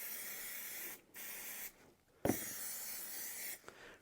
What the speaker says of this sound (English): grab my spray again, and again I'm just going to get the more crucial areas